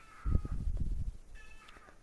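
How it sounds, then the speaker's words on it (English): A guest cat named Leo lets out a couple of short, close meows, a louder one first and a thinner, fainter cry after a pause, with no talk over them. "This is our guest star, my Guest cat Leo."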